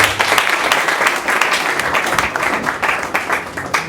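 Audience applause at a comedy festival show in Goma, dense and steady clapping from a crowd that carries through the whole stretch at close range.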